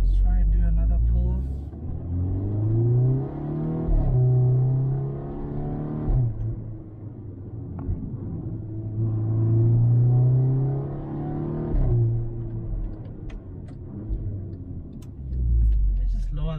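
Interior view of a VW Golf 6 R engine pulling hard under acceleration, a deep loud rumble rising in pitch through several gears with short dips at each shift.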